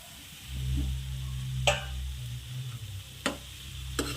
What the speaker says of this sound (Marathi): हे बघा आपला मसाला छान पकला आहे आता यामध्ये आपण आलू ॲड करू